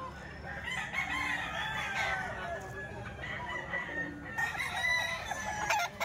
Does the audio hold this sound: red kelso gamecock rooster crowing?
yes